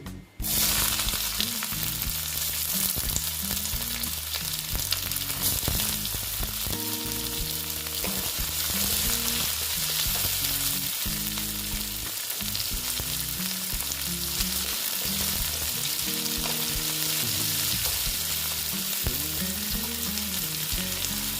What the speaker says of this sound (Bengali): পেঁয়াজটা একটু ভাজা ভাজা হতে দিচ্ছি